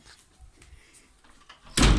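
A door is pushed shut in a quiet indoor room, ending in one loud, close thud after faint shuffling and creaks.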